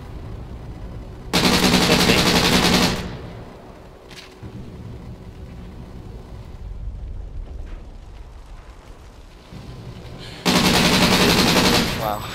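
Light machine gun fire in a video game, two sustained loud bursts of rapid automatic shots, one early and one at the end, with quieter game ambience and distant pops between.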